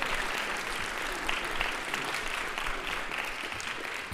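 Concert audience at a fall semester jazz orchestra show applauding, a dense, sustained wash of clapping from a large crowd, fairly faint and steady throughout.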